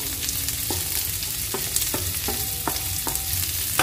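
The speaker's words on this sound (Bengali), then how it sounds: "একটু নেড়ে নিচ্ছি" Chopped onion, green chilli and capsicum sizzle steadily in a frying pan, with a spatula scraping and stirring in several distinct strokes over the continuous hiss.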